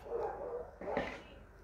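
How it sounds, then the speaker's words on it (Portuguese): Dogs bark somewhere in a neighborhood, faint and distant, with two short bursts of barking heard through an indoor room. "que os cachorros estão agitados"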